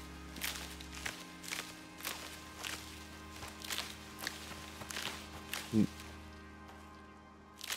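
Footsteps in the ICARUS survival game, a steady series of soft, evenly spaced steps at close range over a low hum of ambient game sound, with one sharper knock near the end.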